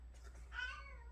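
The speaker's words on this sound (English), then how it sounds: "That was my cat, Nikita." A pet cat named Nikita lets out a single faint, drawn-out meow in a quiet room, rising then trailing off over a low steady hum.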